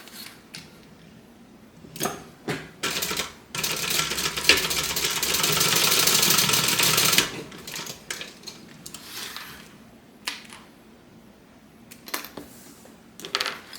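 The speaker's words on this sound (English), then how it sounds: "I'm just going to stitch 1/4 of an inch on each side of the zipper and stitch the tabs to the" Sewing machine stitching the zipper tabs onto a fabric clutch. Short mechanical whirring bursts alternate with one long, steady run of stitching in the middle, plus scattered creaks and clicks.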